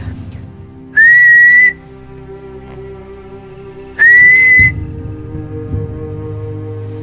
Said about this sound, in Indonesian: Tuh ada yang siul.